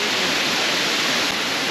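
A waterfall beside a road near Boquete in Panama's central mountains roars with a steady, dense rush of clear falling water, loud and close, with no voices.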